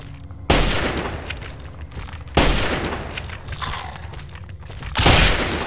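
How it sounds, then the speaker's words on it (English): Lincoln's Repeater rifle in the video game Fallout 3 fires three loud, booming shots about two seconds apart, each with a long echoing tail over a low game-world rumble. "We'll use Lincoln's gun. Sounds like the Predator"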